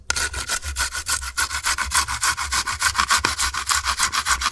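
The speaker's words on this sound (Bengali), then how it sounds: "এবারে আমি আমটাকে খুব সুন্দর করে গ্রেট করে নিচ্ছি" Raw mango rubbed against a grater, a brisk rhythmic rasping of repeated strokes at a steady pace, close and clear with no voices.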